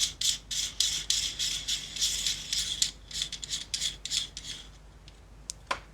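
Threaded part being screwed onto a CNC threaded outer barrel of a VFC ProForce M18/P320 airsoft pistol, giving a close, repeated rasping and rubbing of metal threads in short bursts, with one sharp click near the end.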